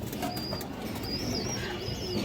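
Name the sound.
pair of Bezi pigeons cooing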